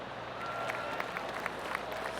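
Polite golf clap from a gallery crowd in PGA Tour 2K23, a soft, steady patter of applause with a few sharper claps, no voices over it.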